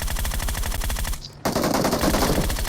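Rapid automatic gunfire in the mobile battle royale game PUBG Mobile, loud and close, with dense bursts broken by a brief pause before firing resumes.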